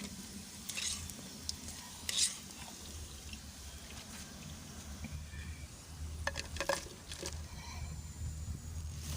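Leftover roti pieces fry in hot oil into crisp chips, a soft continuous sizzle with occasional crackles and brief stirring clatter, fairly quiet and close.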